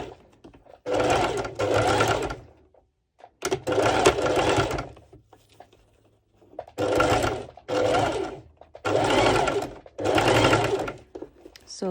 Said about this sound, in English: for this I'm going to use my zigzag stitch